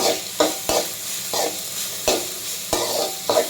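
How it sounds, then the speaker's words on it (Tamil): Dried anchovies fry in hot oil in a pan, with a continuous sizzle broken by about seven sharp, evenly spaced stirring scrapes of a spatula, close and fairly loud. "நம்ம கருவாடை போட போகிறோம். இது எண்ணெயில் இப்படி வதங்கணும்"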